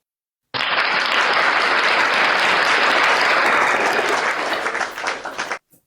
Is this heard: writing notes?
no